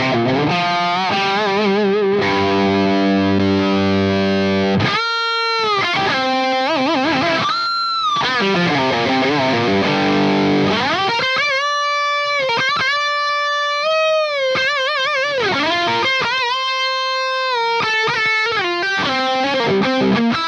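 Electric guitar through a Marshall DSL50 amp on the lead 2 channel, with thick saturated distortion playing sustained notes and bends, loud and steady with no talking.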